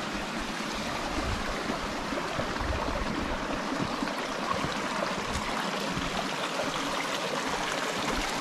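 A natural forest stream rushes and splashes steadily at close range, a dense unbroken water noise with no voices.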